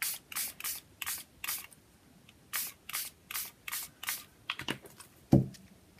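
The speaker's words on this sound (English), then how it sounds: "I'm just going to have a spray and see what we end up with." A spray bottle of homemade spray spritzes onto paper in short, crisp bursts, about a dozen in uneven clusters, close by, ending with a single dull tap.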